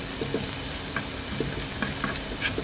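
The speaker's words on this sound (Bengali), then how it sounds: "তো সবগুলো আমি একসাথে ভেজে নিচ্ছি, একটু লাল লাল করে ভেজে নিতে হবে।" Chopped garlic, onion and jute leaves fry together in a pan, making a steady close sizzle broken by soft scraping stirs at an irregular rhythm.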